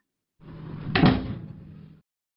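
A door is pulled shut indoors in a radio mystery drama, making one short closing thump that swells and fades over about a second, alone with no voices.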